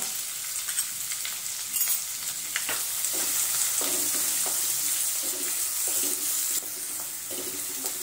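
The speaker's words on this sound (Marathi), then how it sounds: "एक कांदा आपण कापून घेतलेला आहे, तोही आपण तेलामध्ये परतून घेऊया।" Sliced onion with curry leaves and asafoetida fries in hot oil, giving a continuous close sizzle with occasional stirring scrapes throughout.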